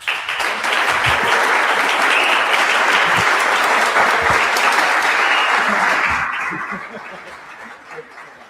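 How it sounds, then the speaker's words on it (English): A conference audience applauding, dense sustained clapping with a few chuckles mixed in, loud and steady for about six seconds before tapering off to scattered claps. "Let's give a big round of applause for that well thought out, well-reasoned presentation"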